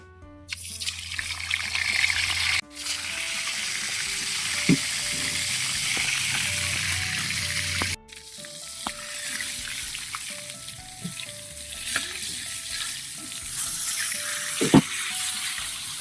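Milkfish (bangus) cooks in a pot with a steady sizzling, bubbling boil that runs throughout, broken by brief clatters of utensils and a sharp knock near the end.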